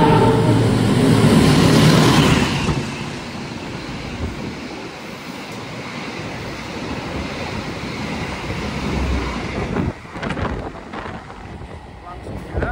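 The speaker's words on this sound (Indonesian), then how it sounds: "Kereta api Argo Wilis Raja Jalur Selatan menyusul kereta api tambahan Gambir Surabaya Gubeng Surabaya Pasar Turi." The Argo Wilis express rushes through Sragen station at speed, a loud wind-like roar at first that settles into a sustained rumble of passing carriages, with a sharper burst near the end.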